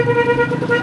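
A car horn blares in one steady, loud honk, close by, lasting under a second.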